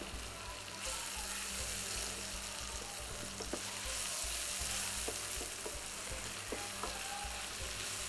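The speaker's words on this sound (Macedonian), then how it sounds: "Сега зелката под дејство на топлината ќе си пушти вода. И ќе се пржи и ќе се динста." Cabbage fries and stews in a pan, giving a soft, steady sizzle with scattered light clicks and taps from stirring. The sound is fairly quiet throughout.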